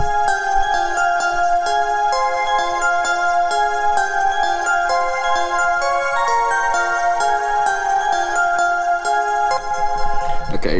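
Two electronic synthesizer melodies play at once in a home-made music production, dense layered tonal lines running continuously at steady loudness without pause, with no voices.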